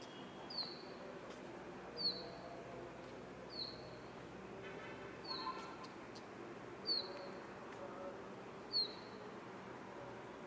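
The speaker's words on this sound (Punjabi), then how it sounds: "ਹੋ ਗਏ ਪੰਛੀ ਸ਼ੁਰੂ ਚੀ ਚੀ ਕਰਨਾ ਬੜੇ ਸੋਹਣੇ ਲੱਗਦੇ" Birds chirp faintly in the distance, with a single short high tweet repeating about every one and a half seconds over a quiet, steady background hiss.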